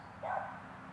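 Small dogs, including a chihuahua, bark from behind a fence in a brief yappy burst that swells and fades within a second, moderately close, with no talking.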